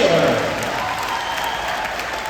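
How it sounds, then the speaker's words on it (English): Loud sustained applause fills an indoor pool arena during a senior recognition ceremony for a university swim and dive team, steady clapping from a large crowd with a few cheers mixed in. "one more round of applause for each and every one of your seniors of the UNI Swimming United team"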